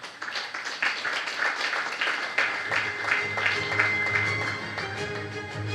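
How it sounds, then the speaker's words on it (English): Conference audience at a circular economy event breaks into sustained, dense applause that stays loud for several seconds, with a voice starting up underneath toward the end. "please a big round of applause to the European Union"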